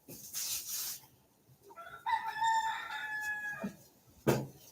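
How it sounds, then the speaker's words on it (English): A rooster crows one long, drawn-out cock-a-doodle-doo at moderate distance, framed by softer rustling and brief clucking sounds. "Y'all hear the roosters?"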